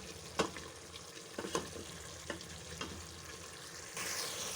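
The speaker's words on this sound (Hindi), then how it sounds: "तो इस तरीके से आप भुनाई करें अपने पाए की।" Beef trotters (paya) frying and being stirred in a pot: a faint, low sizzle underneath with a few soft scrapes and knocks of the spoon at irregular intervals, close but quiet, no talking.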